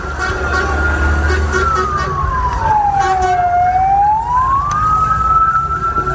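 An ambulance siren in Gaza wails in a slow rising and falling sweep, loud and close over traffic rumble and street noise.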